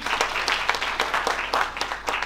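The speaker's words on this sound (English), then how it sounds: "Another round of applause for Dr. Chabi." Conference audience at a stakeholders' event breaking into applause, a dense, even patter of many hands clapping at close range, loud and sustained with no talk over it.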